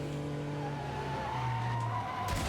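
Car tires skid and squeal under braking in the Neverness To Everness video game, with a steady engine drone and a long sliding screech, loud and continuous, with no voices.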